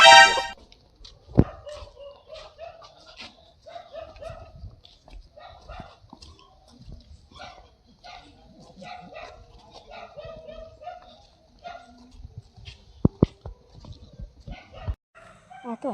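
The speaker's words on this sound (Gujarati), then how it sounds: "કૂતરા ભસે ઓલ બાજુ જતો રહે" Dogs bark repeatedly outdoors in a village lane, a run of sharp barks and yips spread through the scene with people talking over them and a brief car horn honk.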